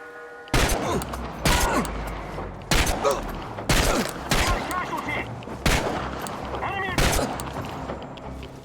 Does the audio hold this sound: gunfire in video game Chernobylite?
yes